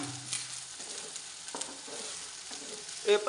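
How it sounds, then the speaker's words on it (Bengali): Carp fish frying in a 25-year-old wok, a soft continuous sizzle with occasional stirring scrapes and a brief louder clatter near the end, close but fairly quiet. "প্রিয় বন্ধুরা, এই যে কার্পু মাছের বোনা আরম্ভ করলাম।"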